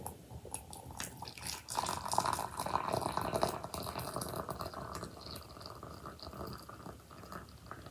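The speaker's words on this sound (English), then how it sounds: "Pour your water in here." Very hot water pours from a Pancerka electric kettle into a clear glass, giving a close, faint splashing trickle that swells and then tapers.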